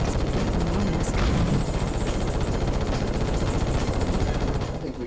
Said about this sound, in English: Shoot down small enemy ships to get more missiles.